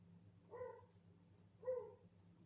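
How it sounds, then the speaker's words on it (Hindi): Dogs bark outdoors at a distance, two separate short barks about a second apart, faint over a low steady hum. "ये जो कुत्तों की भौंकने की आवाजें आ रही हैं उसके लिए मैं आप सभी से माफी चाहूंगी।"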